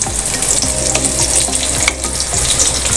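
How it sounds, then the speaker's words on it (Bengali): A cup of coarsely chopped onions fries in a generous amount of hot oil in a wok for mutton kosha, giving a steady, close, crackling sizzle with no voices. "এই পেঁয়াজটাকে আমি খুব ভালো করে ভেজে নিচ্ছি।"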